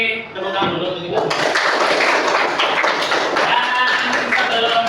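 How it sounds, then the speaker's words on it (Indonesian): Classroom of Islamic religious education students clapping together after singing, a dense sustained patter of many hands with some voices mixed in, steady and close for several seconds. "tepuk tangan dulu untuk kita"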